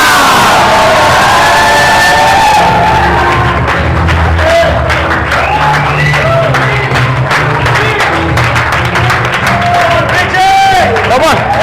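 A church congregation standing and shouting their names aloud at once, a loud overlapping crowd of voices with claps and cheers mixed in, close and sustained.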